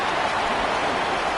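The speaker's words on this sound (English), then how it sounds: "rain continues to fall" Steady rain falls during an NFL game between the Steelers and Seahawks at Acrisure Stadium, an even, continuous hiss with no breaks and no voices over it.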